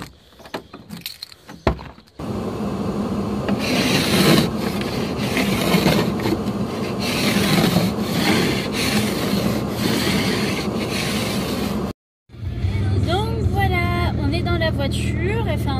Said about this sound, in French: je viens de gratter la voiture parce qu'elle avait gelé